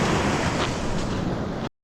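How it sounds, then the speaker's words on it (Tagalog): Big ocean waves crash and roar on the shore at a shore-casting fishing tournament in Maitum, Sarangani Province, a loud, steady wash of surf with wind buffeting the microphone until it cuts off abruptly. "Grabe yung lalaki ng alon"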